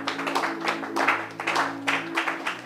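A congregation applauds during a Bible teaching on Exodus with rhythmic group clapping in regular pulses, over a steady low hum from a sound system.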